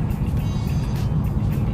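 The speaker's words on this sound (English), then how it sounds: "I'm driving the 350." Steady low engine rumble from a 350 vehicle being driven, a continuous close drone with road noise and no speech.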